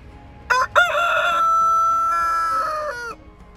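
A rooster on a backyard flock crows once, loud and close, a clipped opening note rising into a long sustained cock-a-doodle-doo call lasting a few seconds with no talking.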